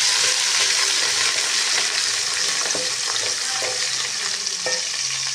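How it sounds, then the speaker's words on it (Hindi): Ginger-garlic paste and onions frying in a pan, with a loud, continuous close-up sizzle and the scrape of stirring throughout. "ये लहसुन अदरक का पेस्ट ये हम डालने लगे।"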